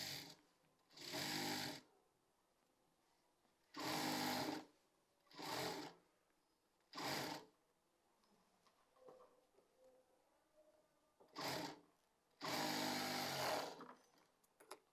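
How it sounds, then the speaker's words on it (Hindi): A domestic sewing machine stitches lace onto fabric for Pakistani flapper pants, in seven separate loud bursts of whirring run, each one to two seconds long, with quiet pauses between them. "अब यहाँ से सिलाई लगाएंगे"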